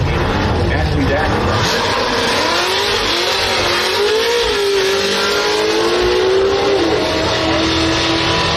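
A Mazda RX-8 launches down a drag strip at a drag racing event, a loud rising engine note climbing steadily in pitch over several seconds amid constant crowd and ambient noise.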